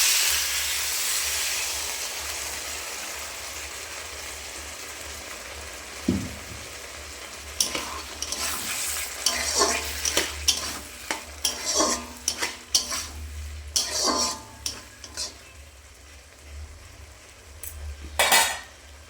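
Tomatoes and potatoes fry in a pan for a Bengali small-fish chorchori with green tomato, with a steady sizzle underneath and a run of scraping, clattering stirs from a spatula or spoon against the pan in the second half.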